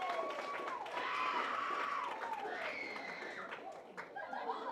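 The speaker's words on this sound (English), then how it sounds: "students, give a round of applause for your parents." Audience applause at a school NJHS induction ceremony, with clapping, cheering and crowd chatter mixed together under high voices, moderately close and sustained throughout.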